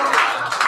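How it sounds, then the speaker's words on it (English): Brief burst of audience applause at an open mic poetry reading, a dense, loud patter of many hands clapping at once for under a second. "Stop applauding, there's more!"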